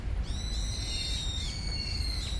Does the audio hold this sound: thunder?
no